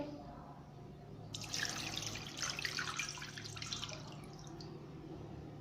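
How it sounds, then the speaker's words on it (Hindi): Water pours steadily into a cooking pot for a few seconds, a splashing rush that starts abruptly and tapers off, over a low background hum. "अब हम इसमें पानी ऐड करेंगे।"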